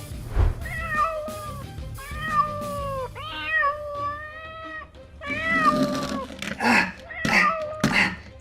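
A cat meows repeatedly, several drawn-out rising and falling calls close by, with some background noise between them.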